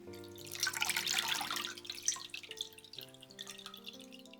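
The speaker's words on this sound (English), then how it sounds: "I drain a sieve" Water drains from rinsed onion sitting in a sieve, a soft trickle and scattered drips that fade over a few seconds, quiet against faint background music.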